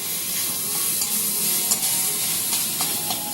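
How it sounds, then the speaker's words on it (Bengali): Onions and green chillies frying in a pan are stirred steadily, a continuous close sizzle broken by scraping clicks of the spatula, with no voices. "লঙ্কাটা দিয়ে আমি ভালো করে পেঁয়াজের সাথে মিশিয়ে নিলাম।"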